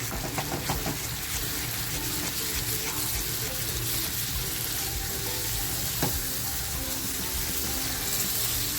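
Grated tomato frying with masala in a pan for a Konkani wet cashew usal, a loud continuous sizzle and bubbling with light stirring scrapes and a few clicks throughout.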